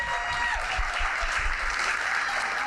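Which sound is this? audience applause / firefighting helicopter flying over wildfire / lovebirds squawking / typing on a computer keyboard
audience applause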